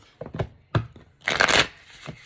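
Tarot cards riffled and shuffled in short bursts, with a longer brisk shuffle in the middle, close and fairly loud, no speech.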